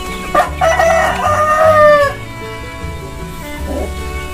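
A KUB chicken rooster crows loudly and close by, a single rising and sustained call lasting about two seconds, followed by quieter clucking and farmyard background.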